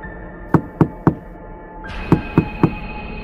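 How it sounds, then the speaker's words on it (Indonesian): Six sharp knocks strike a door, three and then three after a pause, each loud and distinct over a faint steady background hum. "Hasan pun kemudian mengetuk pintu."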